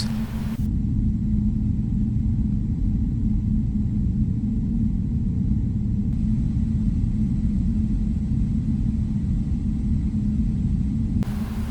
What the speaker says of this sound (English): now that our engines have started up beautifully